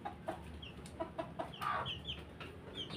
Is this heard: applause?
no